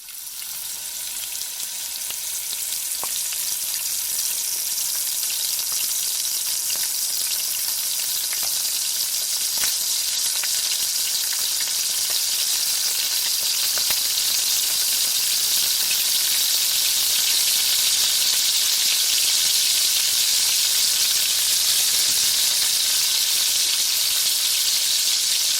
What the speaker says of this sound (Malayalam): ഇനി ഇതിലേക്ക് നമ്മൾ മാരിനേറ്റ് ചെയ്ത് വെച്ച ചിക്കൻ ഓരോന്നോരോന്നായിട്ട് ഇട്ടുകൊടുത്ത് നന്നായിട്ടൊന്ന് ഫ്രൈ ചെയ്തെടുക്കാം.